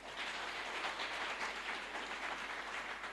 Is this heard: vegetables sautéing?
no